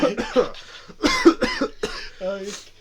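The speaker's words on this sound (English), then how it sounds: "Cough it up in the mic, brother." A man coughs a few times amid lively nearby talk and laughter, the coughs short and raspy between voices.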